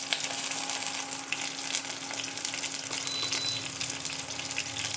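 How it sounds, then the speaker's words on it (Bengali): Dried red chillies fry in oil in a frying pan, giving a steady, close, bright sizzle and crackle throughout with no talking. "ফ্রাই প্যানটাতেই আরেকটু তেল দিয়ে আমি প্রথমে ভেজে নেব কয়েকটা শুকনো লঙ্কা।"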